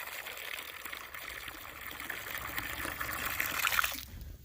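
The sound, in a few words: water pouring into a livestock waterer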